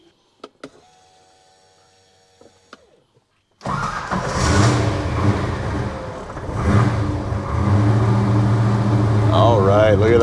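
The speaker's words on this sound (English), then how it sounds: "fire her in the guts, and take her for a spin" A 1957 Chevy restomod is lowered off a hoist and its engine cranks and fires, settling into a loud, rumbling idle with a few revs. Faint clicks and whirs come first, and a voice talks over the engine.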